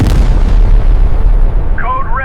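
Loud, heavy gunfire as a dramatic effect, a sustained booming burst that rumbles and decays, with a brief voice entering near the end.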